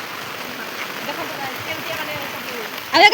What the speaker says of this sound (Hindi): केते जोर से वर्षा होची देखन तो